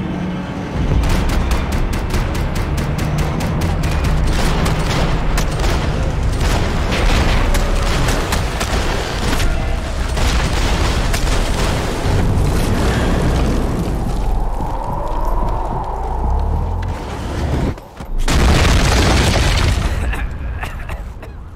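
Sustained gunfire and booming explosions from a Max Payne 3 firefight, loud and dense throughout, with volleys of shots, heavy blasts and a brief lull near the end before another burst.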